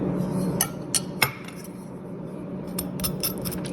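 Crispy fried potluck chicken handled up close, with sharp crackly clicks and crunches at irregular moments and a steady low background hum.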